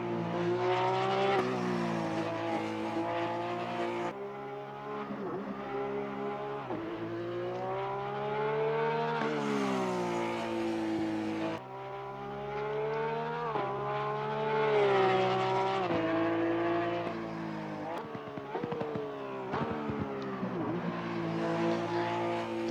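Porsche 991 GT3 race car in Assetto Corsa Competizione on a warm-up lap at Spa-Francorchamps, its engine droning and rising and falling steadily through gear changes, with a brief drop as the car brakes, continuous and loud without talk.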